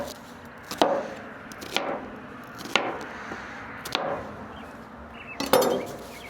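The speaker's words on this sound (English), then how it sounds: "We're just gonna chop this up," A knife roughly chops a sweet onion on a cutting board, with five or six sharp, spaced knocks against a faint room background and no talking.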